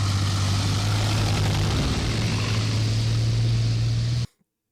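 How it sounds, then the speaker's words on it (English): Ka-52 attack helicopters fly in a military setting, a steady loud engine and rotor drone with a strong low hum running unbroken for about four seconds before cutting off abruptly. "We can also see them conducting some rotary aviation wing actions as well with Ka-52s"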